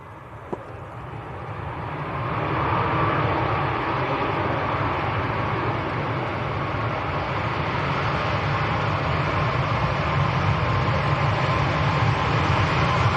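Ryanair airliner landing at Leeds Bradford Airport in wet, windy weather, a steady broad roar rising over the first seconds and then holding loud and constant, blended with wind and rain noise, with no talk.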